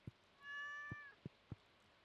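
A cat meows once in the Stardew Valley farm game, a single drawn-out, clear mew lasting about half a second, with a few soft low thumps before and after.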